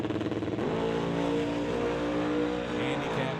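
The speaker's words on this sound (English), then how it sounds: "Big block Chevy under the hood of that Corvette." Corvette with a big block Chevy engine launching down a drag strip at a racing event, a loud, close, sustained roar that rises in pitch as it accelerates, with a broad engine rumble throughout.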